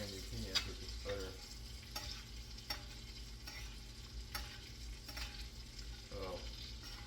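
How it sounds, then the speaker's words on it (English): Steaks searing in browning butter in a pan give a quiet, steady sizzle, punctuated by repeated light clicks and scrapes as the meat is turned. "Call it brown butter because the butter is cooking."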